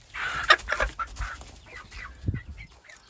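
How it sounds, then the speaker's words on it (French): A Brahma hen clucks nearby while making her nest, in a short series of throaty calls, then quieter murmuring clucks and a low thud, with no voices. "une poule Brahma"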